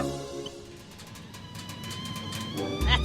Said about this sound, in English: That's the kettle.